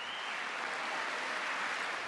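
Republican lawmakers applauding Elon Musk in a legislative chamber, a dense, steady roar of clapping from a large room, even and sustained throughout.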